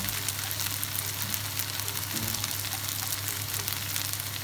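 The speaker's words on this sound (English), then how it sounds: "So letting my gnocchi brown up a little bit here and there and gets a bit of a crispy outer layer" Gnocchi browns in a hot pan with mushrooms piled on top, a steady, dense sizzle that stays loud and constant throughout, with no talking.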